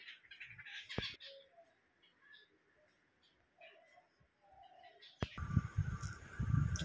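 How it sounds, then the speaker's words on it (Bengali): Birds chirping outdoors near a house beside a street, with faint, scattered calls during the first seconds, then a louder burst of broadband noise near the end. "পাখিগুলো কিচিরমিচির করছে, কেমন"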